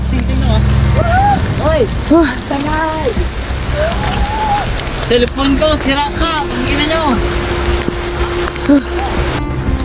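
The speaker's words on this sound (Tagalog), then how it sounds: "Lalo pang lumakas yung ulan." Heavy rain drums steadily on surfaces during a river nature trip amid flooding, loud and constant, while several people talk and call out over it.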